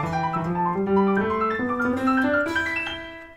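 A MIDI guitar arpeggiator set to five steps at 145 BPM plays quick, evenly spaced synth-like notes that climb in repeating ascending patterns, bright and close, then fade out.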